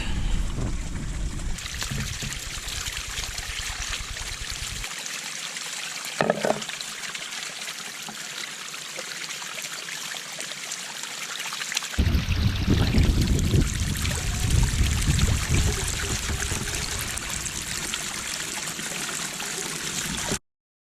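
Creek water runs steadily beside a windy overnight campsite, a continuous close rush and trickle that surges louder partway through, with no talk.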